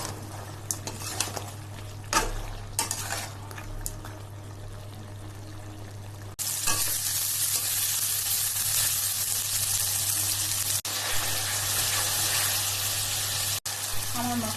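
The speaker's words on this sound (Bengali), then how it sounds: "আমার মশলাটা অনেক সুন্দর ভাজা ভাজা কষানো হয়ে গেছে" Spices fry in a pan for chicken curry, a steady sizzle with clinks of a spoon against the pan and a loud pouring rush in the second half, under a constant electrical hum.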